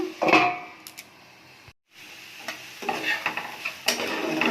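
Peas and tomato frying in a covered pan are stirred with a utensil, with scraping strokes over a light sizzle, a short silent gap, then more stirring and crackling.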